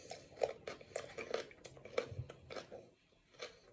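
Someone bites and chews a fresh carrot up close, a run of crisp, irregular crunches and wet chewing that fades to quiet near the end.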